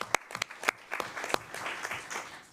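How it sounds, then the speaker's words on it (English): A school board meeting audience gives a brief round of applause for the Crockett and LBJ high school football teams, scattered sharp claps building into a steady patter that fades out. "A little round of applause there."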